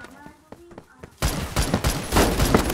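Rapid-fire gunshots in the shooter game Phantom Forces: after a quieter opening with a few brief sounds and a faint voice, a dense, loud, continuous barrage of shots erupts and keeps going to the end.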